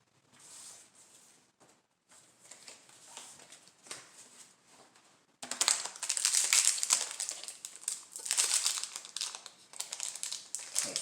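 Foil wrapper of a trading card booster pack crinkling close up, soft and sparse at first, then becoming loud, busy rustling and crackling for the second half.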